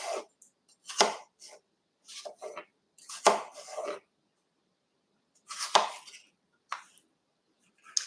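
Knife slicing apples on a cutting board for apple crisp, a series of separate crisp cuts and board taps at an irregular pace, close up, with silent gaps between them.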